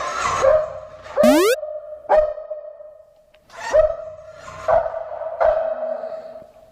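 A dog barks at Jaisalmer fort in a series of sharp, separated barks, loud and close, with short pauses between them and an electronic chirp early on.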